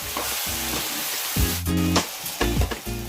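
Goat mutton curry frying in a pot over a wood fire sizzles continuously, while a spoon stirs and scrapes against the metal in several distinct strokes that bring heavier clanks and bursts of louder sizzle.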